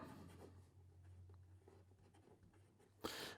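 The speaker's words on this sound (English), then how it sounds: "So here we go with the writing sample for the Venvstas. And this is the Magna." A Venvstas Magna fountain pen with a medium titanium nib writes on paper, producing a faint, steady scratching up close that ends with a brief louder rustle.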